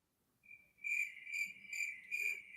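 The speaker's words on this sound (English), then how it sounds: "We got to play the Crickets for a reason, Grant" Cricket chirps used as a comic sound effect, a steady high trill pulsing in four loud, regular bursts after a brief quiet start, with no voices.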